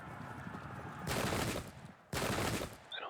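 Musket volleys fire in the Pike and Shot strategy game, set in the Kuruc Rebellion, with two loud, dense crackling bursts about a second apart over steady background noise.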